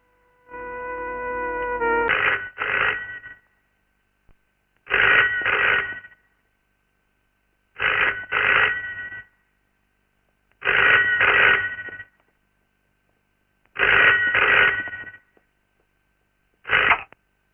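A telephone rings in a Telugu movie scene, in repeated double bursts separated by silent gaps, preceded by a short tone pattern at the start.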